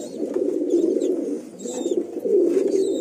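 Close, low rolling coos from a pair of imported Teddy Pakistani Shiyalkoti pigeons come in about three drawn-out phrases separated by short dips, with no voices present.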